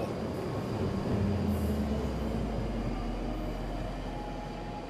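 Train pulls away from a station platform in the game Late Shift, a steady heavy rumble of wheels on rails with a faint high whine, continuous and fairly loud throughout.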